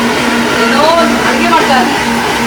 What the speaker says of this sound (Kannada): ಏನಾದರೂ ಒಂದು ಹೇಳ್ಬೇಕಾದ್ರೆ ಕರೆಕ್ಟಾಗಿ ಮಿಕ್ಸಿ ಆನ್ ಮಾಡಿಬಿಡ್ತಾರೆ